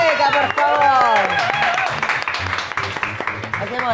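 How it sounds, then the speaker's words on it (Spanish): A studio audience on a Peruvian talk show applauds a guest. The steady clapping runs under ongoing talk from the host and other voices throughout. "Un aplauso para Mateo Garrido Lica, por favor."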